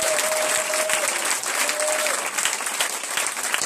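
Church congregation applauding the Lord, dense sustained clapping from a large crowd that fills the room, with a faint voice or tone briefly heard beneath it.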